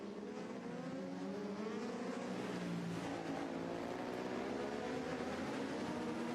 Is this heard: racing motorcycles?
yes